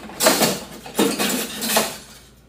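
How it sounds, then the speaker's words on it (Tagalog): A sourdough mixing utensil clinks and scrapes against a bowl or container in three short metallic bursts, close and fairly loud, with no talking. "So, gagamit tayo ng panghalo ng sourdough."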